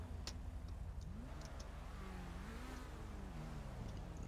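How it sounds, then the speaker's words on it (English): A car engine revving in the GTA V police game, a low motor tone rising and falling in pitch over steady background hum, with faint ticking clicks near the start. "he's revving his engine."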